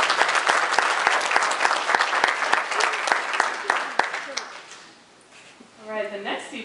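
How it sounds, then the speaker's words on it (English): Applause for a kindergarten class at a graduation ceremony, loud, dense clapping with a few sharp claps that fades away after about four seconds, then an adult voice speaks. "Let's give them a round of applause for this."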